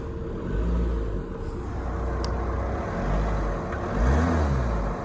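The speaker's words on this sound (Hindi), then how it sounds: "थोड़ी भी अंदर से रेव करके भी आपको सुना देते हैं आवाज़, कि गाड़ी कितनी आवाज़ करती है" A 2013 Audi A6 2.0 TDI diesel idles with a low, steady exhaust rumble, then swells briefly as the engine is revved near the end before settling back.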